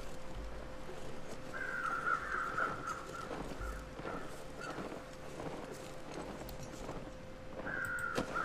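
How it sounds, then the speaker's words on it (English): Crows caw overhead in the video game The Long Dark, with a few faint, spaced caws against a steady low background of ambient wind and game sound, with no talk. "Is there a dead body there? Because I see the crows overhead."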